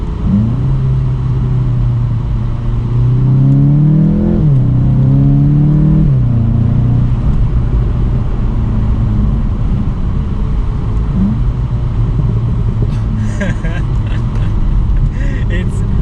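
Volkswagen Golf GTI TCR pulling away after a downshift into first gear, its engine rising and falling through loud revs with a strong low rumble that settles into a steady drone, heard from inside the car.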